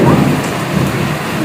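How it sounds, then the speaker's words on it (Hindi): Steady heavy rain with rumbling thunder during a thunderstorm, wind blowing the shower over a garden sleeping area, a loud continuous downpour wash with low rumble and no voices. "सोते सोते बारिश आ गई"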